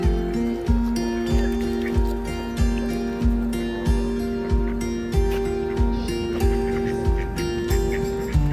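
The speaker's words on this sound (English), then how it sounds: "Duck. Duck means battak." A duck calls in a steady run of loud, evenly spaced quacks, close and clear, with no talk over it.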